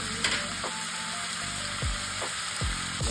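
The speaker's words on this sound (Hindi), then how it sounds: "इसे अच्छी तरह से भूनना है।" Palak chicken curry fries in a pan with a bright, steady sizzle, broken by a few soft scraping stirs; the sound is close and there is no talking.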